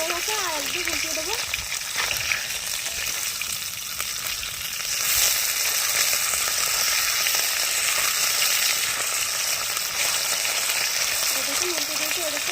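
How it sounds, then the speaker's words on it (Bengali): Fish sizzling steadily in hot oil in a pan, a continuous loud crackling hiss that runs through the whole stretch while a person talks over it. "দেখুন উল্টে দিয়েছি, এদিকটা ভালোভাবে ভেজে নেবো।"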